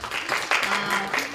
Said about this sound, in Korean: 큰 박수로 맞이해 주시니까